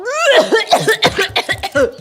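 A person coughs several times in quick succession, loud and close, the bursts rough and breathy with brief gaps between them.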